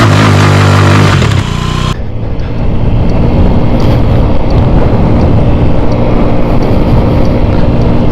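A motorbike on a test ride after a stuck-open variator was repaired, heard up close as a loud steady engine roar buffeted by heavy wind rush, with a brief change in engine tone near the start.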